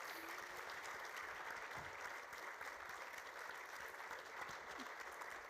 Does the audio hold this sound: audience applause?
yes